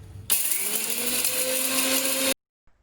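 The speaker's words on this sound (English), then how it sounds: "So we will grind this now." An electric grinder whirs through whole spices in a short, loud, steady burst with a rising motor whine, cutting off abruptly into silence followed by a faint clunk.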